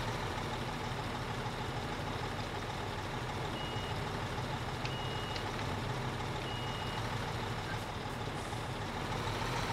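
A truck backs up a trailer in the Construction Simulator 2015 video game, its steady engine drone filling the scene while faint, intermittent reversing beeps sound over it; no one speaks.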